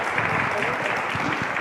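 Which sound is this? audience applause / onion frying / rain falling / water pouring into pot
audience applause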